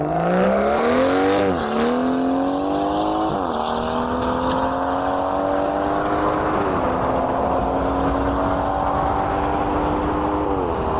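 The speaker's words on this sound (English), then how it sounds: "that six-cylinder engine sounds rather nice" A BMW M140i six-cylinder engine runs loud and steady at a car meet, its harmonic drone climbing and dipping through several rev changes over eleven seconds, with no talk.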